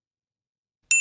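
After near silence, a single bell rings in a bright, clear ding that rises abruptly and rings on briefly.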